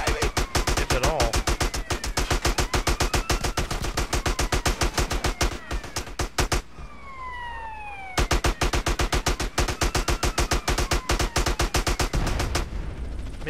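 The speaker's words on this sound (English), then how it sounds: "shooting this gun kills your controller" In GTA San Andreas, a gun fires a long, evenly spaced stream of rapid shots, loud and close, with a short pause midway where a police siren wails, then the shooting resumes at the same fast rhythm.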